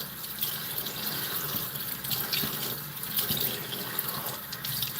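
A sink tap runs steadily while someone washes off their face, with a continuous close splashing hiss and small irregular splashes of hands in the water.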